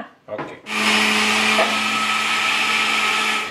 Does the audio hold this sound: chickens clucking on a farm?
no